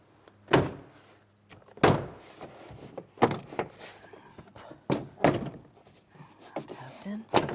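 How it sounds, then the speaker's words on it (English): A trim panel is tapped into place on the rear sliding door of a Chrysler Town & Country minivan, giving several hollow plastic thunks spaced a second or so apart, each close and punchy, with softer handling clicks between them. "we'll tap this into position along the door as well"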